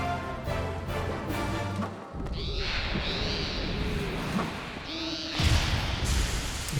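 An owl hoots in a healer role quest video game, with repeated long calls rising over a busy, loud battle soundscape with rumbling effects.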